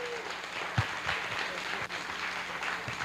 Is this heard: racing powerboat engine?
no